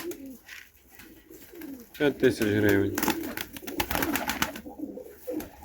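Pigeons give low rolling coos close by while someone talks over them, and the cooing swells and then fades.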